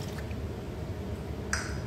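About a cup of water is poured into flour for homemade puff pastry dough, making a steady, soft liquid rush over a constant low hum with no talk.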